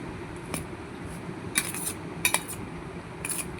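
A spoon stirs boiled corn in a pot, giving sparse metallic clinks and scrapes over a quiet background, close-up and without talk.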